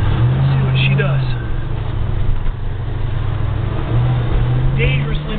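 A 1971 Plymouth Roadrunner's engine drones and pulls up through its revs while driving, the steady tone rising and falling under the cabin's road rumble, with someone talking over it.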